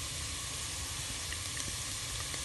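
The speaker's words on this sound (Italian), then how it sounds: "Questo concentrato si deve un po' soffriggere nell'olio" Tomato paste fries quietly in hot oil in a pan, a faint, steady sizzle and hiss with a few tiny pops and no voices.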